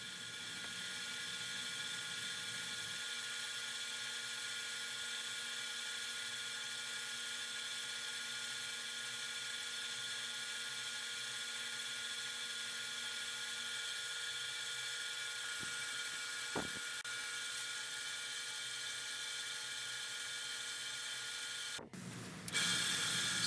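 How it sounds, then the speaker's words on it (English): A cigar pen spins on a lathe while being wet sanded with micro mesh pads, giving a steady high whine with a couple of brief clicks and a sudden drop near the end, without talk. "So here you see me begin the wet sanding process using the micro mesh"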